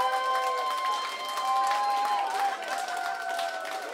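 An audience claps and cheers for a singer at a live show, a steady patter of applause running under sustained tonal voice or music throughout.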